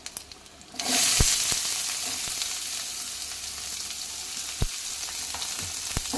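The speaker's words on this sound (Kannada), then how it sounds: "ಈಗ ಫ್ರೈ ಮಾಡಿ" Chopped onion goes into hot oil with urad dal in a pan for a raw-banana curry. A loud sizzle starts suddenly and then settles into steady frying, with a few clinks of stirring.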